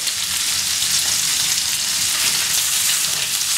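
Tomato paste and garlic fry in a pan over lowered heat, a continuous soft sizzle holding steady throughout with no voices.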